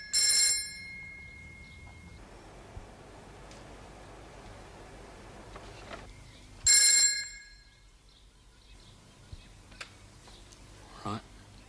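An old-style telephone bell rings in two loud, trilling bursts several seconds apart, with quiet room noise and faint rustling in between.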